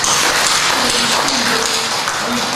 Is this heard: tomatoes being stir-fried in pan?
no